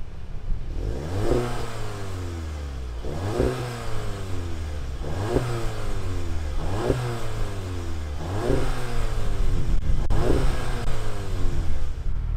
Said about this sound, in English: let's fire up this inline four and see what it sounds like.